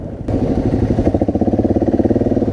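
Motorcycles on an off-road group ride at an adventure bike festival, one led by a BMW 1200, rumble nearby with a steady mid-pitched engine note that settles into a rapid, even thumping pulse as a bike idles or ticks over close by.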